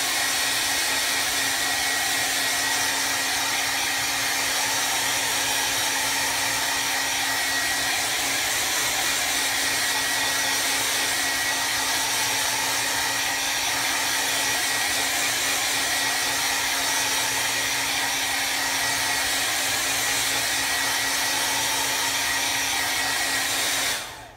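Heat tool blows a steady, loud whooshing hum while drying paint on an art journal page, running continuously alone and cutting off at the very end.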